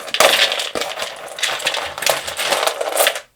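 Tiles clattering and clicking as they are handled and shuffled, bursts of bright rattling close by with brief pauses between.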